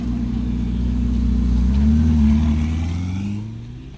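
A Ferrari sports car engine revs up loud and close, a deep rising and falling mechanical drone that peaks midway and then eases off, with no voices over it.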